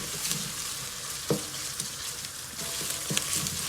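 Tomato paste fries in a pan for a Turkish green bean dish, a steady close sizzle with occasional clicks and scrapes of stirring.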